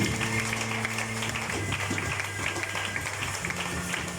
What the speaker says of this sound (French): Est-ce qu'on peut acclamer pour le Seigneur Jésus?